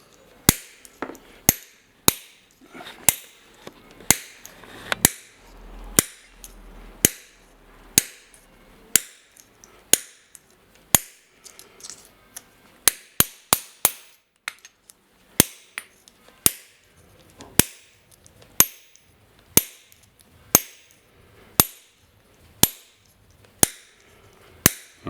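Sharp, ringing hammer strikes on small stainless steel falconry bells being closed, steady single blows repeated at roughly one per second, close and clear with no talk.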